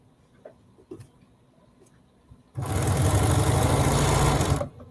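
A Bernina sewing machine runs in one sustained burst of fast, steady stitching, loud and close, after a few quiet clicks and handling taps.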